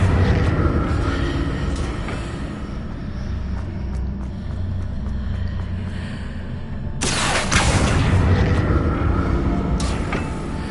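A heavy stone platform in a Harry Potter video game grinds and rumbles as an Accio spell drags it toward a bridge, a low continuous scraping drone that surges louder partway through with a sharper burst of noise.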